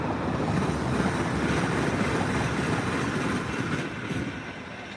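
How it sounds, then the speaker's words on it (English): A TransPennine Express Class 802 train passing close by with a loud rushing roar that slowly fades toward the end. "That was a Transpennine, a Class 802."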